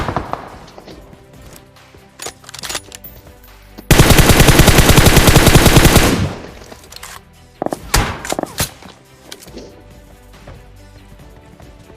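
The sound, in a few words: gunfire in a shooting video game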